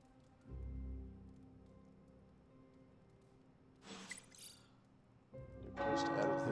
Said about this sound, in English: tower bells are ringing.